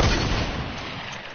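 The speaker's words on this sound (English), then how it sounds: "Stop shooting me, man." A single loud gunshot from an online shooter video game cracks at the very start, then its boom decays quickly into a fading rumble, with no talk over it.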